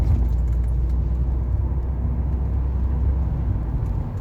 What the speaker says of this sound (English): this car sounds incredibly refined in the cabin. It doesn't get too noisy.